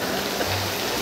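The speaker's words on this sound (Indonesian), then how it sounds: "Hujan, guys, ya, hujan angin." Wind-driven rain at an outdoor festival, a steady dense hiss of rainfall lasting about a second, loud and close with no talking.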